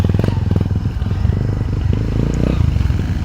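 One of four motorcycles ridden along a rural Philippine road toward the highway, its engine chugging in a steady close throb with some rattling clatter throughout.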